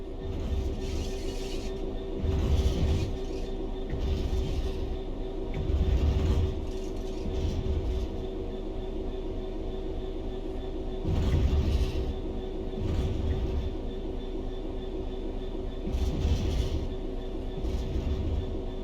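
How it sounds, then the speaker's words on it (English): A diesel locomotive coasts on level ground with the throttle at zero in Train Sim World 4, giving a low, steady mechanical rumble with rhythmic rolling swells and faint gear-like rattles, moderately quiet and without voices. "The train will then coast on level ground, and the train will only slow down very gradually."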